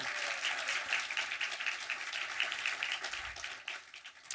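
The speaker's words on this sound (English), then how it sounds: "So now let's give a round of applause to everyone." An audience at a UCLA student film restoration screening gives a dense, continuous round of applause, many hands clapping together at a steady, moderate level from start to finish.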